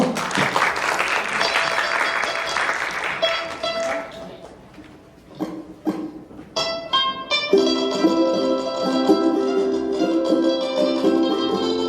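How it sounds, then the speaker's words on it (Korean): Applause from a concert audience at a ukulele duo performance rises and fades, giving way to ringing bell-like tones and music. "팬에 따라 박수 한번 주십시오."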